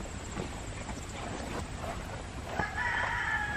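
Free-range chickens and a rooster on a farm sound off near a new fence, with scattered clucks and a long crow rising near the end over an outdoor hum.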